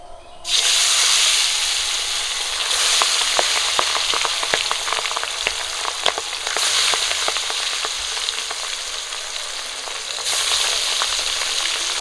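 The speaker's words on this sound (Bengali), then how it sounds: "মাছগুলো একটা একটা করে দিয়ে ভালো করে ভেজে নেব।" Pabda fish pieces dropped into hot oil start a loud, sudden sizzle that stays strong and dense, crackling and popping sharply throughout with brief swells and dips in the hiss.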